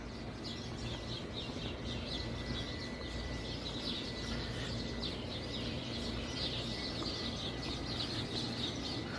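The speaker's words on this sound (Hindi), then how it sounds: "इस दरख्त के ऊपर काफ़ी चिड़ियाँ चहचहा रही हैं।" Sparrows chirp faintly in a jujube tree in Mecca, a steady scatter of soft high calls over a low outdoor hum with no talking.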